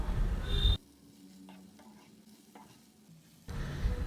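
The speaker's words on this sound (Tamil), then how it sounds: "முருங்கைக்கீரை சேர்த்துட்டு ரொம்ப நேரம் நம்ம வதக்க வேண்டாங்க ஒரு அஞ்சு நிமிஷத்துக்கு வதங்கினாவே போதும்" A loud sizzling burst sounds at the start and again at the end as drumstick leaves sauté in a pan for a chutney. A quiet stretch lies between the bursts, with faint clicks and no talking.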